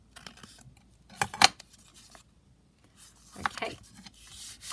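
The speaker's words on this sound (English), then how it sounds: "we'll just trim it across the bottom" Scissors trim the edges of a paper foldout booklet in a few short, crisp snips and rustles separated by quiet pauses.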